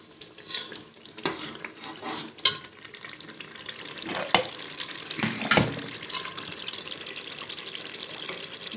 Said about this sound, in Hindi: अब दाल को तड़का लगाऊंगी मैं